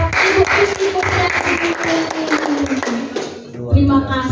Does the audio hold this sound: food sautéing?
no